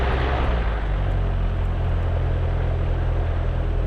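Light aircraft engine throttled back toward idle during a pre-takeoff run-up check at KPAO, a steady loud propeller drone heard from inside the cockpit, continuous with no talk.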